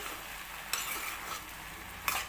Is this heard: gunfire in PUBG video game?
no